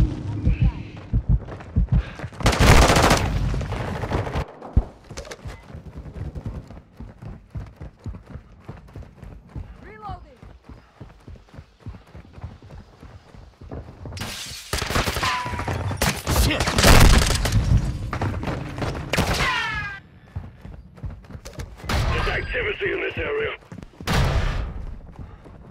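Intermittent bursts of automatic gunfire in a Call of Duty match, several loud close volleys separated by quieter stretches of rumble and talk.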